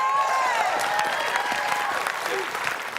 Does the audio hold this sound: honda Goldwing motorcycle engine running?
no